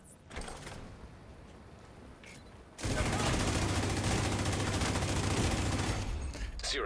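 An automated turret fires in a video game, a sustained dense stream of rapid shots that starts abruptly and hammers on steadily for several seconds after quieter ambient noise.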